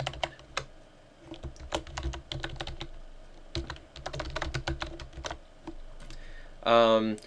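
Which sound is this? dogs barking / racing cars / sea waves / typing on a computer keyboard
typing on a computer keyboard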